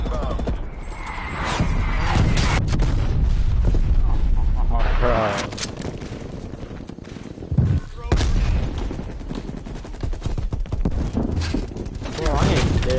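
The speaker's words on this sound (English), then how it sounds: "I'm gonna kill him with my artillery, bro." Artillery strike explosions in Call of Duty Warzone, a dense run of loud booms and rapid gunfire-like bursts rumbling for several seconds, then quieter scattered impacts with occasional talk mixed in.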